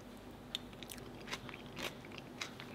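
Crispy bacon over mashed potatoes with onion and gravy is bitten and chewed close up, giving a handful of quiet, sharp crunches spaced irregularly over soft background hiss.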